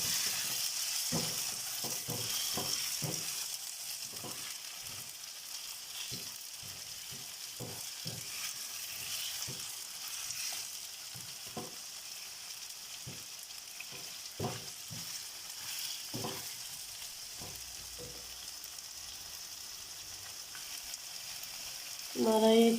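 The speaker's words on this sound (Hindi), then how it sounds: "इसको पूरी तरह फ्राई करना है हमने, ताकि ये बिल्कुल वाइट हो जाए।" Chicken frying in a karahi, a continuous steady sizzle close by, broken by frequent light stirring scrapes and a louder clatter at the end.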